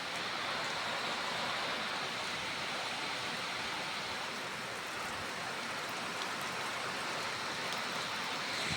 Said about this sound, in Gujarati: વરસાદ બહુ ચાલુ છે